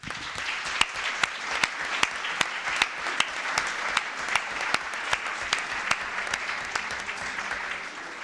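Audience applause at the Great XV International Meeting 2022 in Florence, a steady dense clapping sustained throughout with sharp individual claps punctuating it, fairly close and alone.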